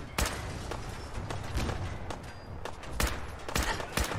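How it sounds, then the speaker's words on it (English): Gunfire from the video game Fallout 4 rattles in a dense, steady stream of sharp shots and bursts, loud and continuous across the whole stretch, with no talking over it. "I'm just firing into the smoke."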